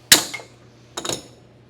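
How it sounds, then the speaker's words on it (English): Two hammer blows set a rivet in a sheet metal dust pan, a sharp ringing metallic strike followed by a softer double tap about a second later, close up. "Let's put a rivet in here."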